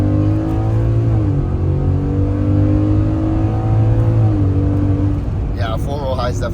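A twin-turbo Ford F150 truck pulls away hard from a standstill with a loud, close engine drone that climbs in pitch through the gears, and a voice breaks in near the end.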